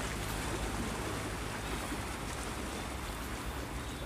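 Fishing boats with bamboo basket gear race at speed into Bình Ty harbour, a steady broadband roar of engines, hull wash and waves, with wind noise and no pause, fairly distant and constant throughout.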